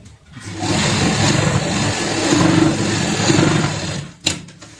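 A sewing machine runs a long straight stitch across a bed sheet being quilted. The motor hums close and continuous for about four seconds, then stops with a couple of sharp clicks.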